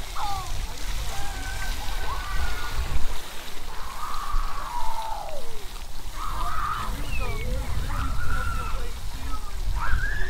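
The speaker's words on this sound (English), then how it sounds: "The little showers just turned on." Broadband hiss of water park showers spraying and splashing, with excited voices and shrieks rising over it throughout.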